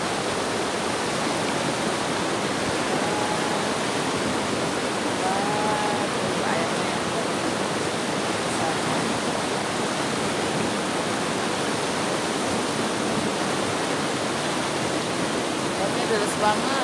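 Fast-flowing river water rushing nearby: a dense, steady broadband roar of churning current, loud and unbroken from start to finish.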